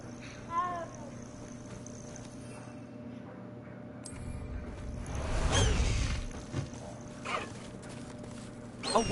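A cat meows in the video game Hogwarts Legacy, with a short mew early on and a louder, drawn-out cry in the middle over steady game ambience and faint voices.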